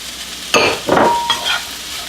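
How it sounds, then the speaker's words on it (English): Vegan pulled pork and shiitake mushrooms in a hot pan, two or three short bursts of sizzling and spatula stirring, close and fairly loud over a quiet background. "You can hear it sizzling, of course, so that means we're getting there."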